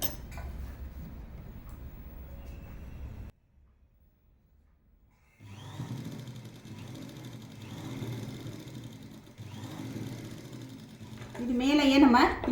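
A sewing machine stitches elastic onto dhoti salwar pants in quiet bursts of ticking mechanical whirring, stopping for a short silent pause before running again for longer stretches.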